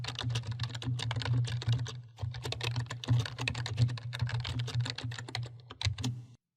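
Rapid clicking of keys on a computer keyboard as a quiz question is typed, steady and close with brief pauses, no voices.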